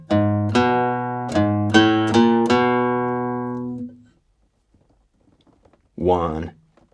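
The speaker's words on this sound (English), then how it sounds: "we're adding a little turnaround riff at the end of measure 12." A short plucked guitar turnaround riff in a 12-bar blues, several ringing notes in a quick rhythm, then a pause and a brief spoken voice.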